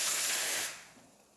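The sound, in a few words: hot water from Rocket Cinquantotto espresso machine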